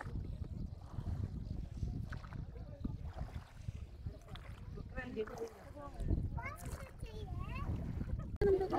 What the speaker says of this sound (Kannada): ನದಿ ನೀರಲ್ಲಿ ಈ ಥರ ಹೋಗೋದು ಬೋಟಿಂಗ್ ತುಂಬ ಚೆನ್ನಾಗಿದೆ